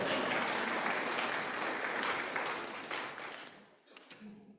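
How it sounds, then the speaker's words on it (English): A Unitarian Universalist congregation applauds after a song at a Sunday service, a dense, steady burst of clapping that fades out over a few seconds, with a brief voice near the end. "we need to clap after that"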